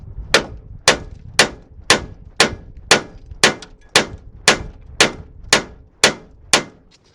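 A splitter hammered into a classic Austin Mini front hub, about a dozen sharp metallic strikes at an even pace of roughly two per second, loud and close, each ringing briefly.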